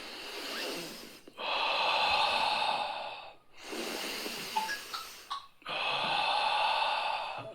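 Three long, deep breaths in and out during a guided relaxation exercise, each a loud airy rush lasting a couple of seconds, separated by brief quiet pauses and heard close up.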